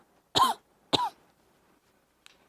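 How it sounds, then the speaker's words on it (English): Two sharp coughs in quick succession during one exhalation, close and loud, followed by a faint third catch after a pause. "The multiple cough technique is where you will cough multiple times during one exhalation."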